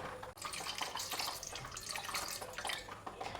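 Water is poured into thick, chilled curd for a maida dough, giving a faint, continuous trickling and splashing close by with no voices.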